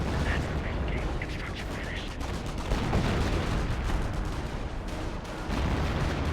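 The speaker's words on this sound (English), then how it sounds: "M10 firing away." An M10 tank destroyer firing in a Company of Heroes battle, with a steady roar of artillery, cannon blasts and gunfire that is loud and continuous and carries no clear speech.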